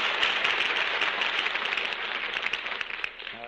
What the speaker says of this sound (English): That applause goes from coast to coast.